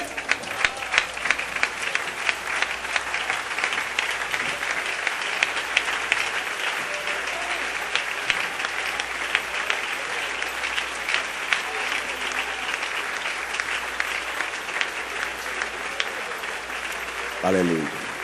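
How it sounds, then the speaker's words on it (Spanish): A church congregation applauds during a sermon, with dense, sustained clapping throughout and voices heard over it. "colóquese de pie y dale un aplauso al Señor"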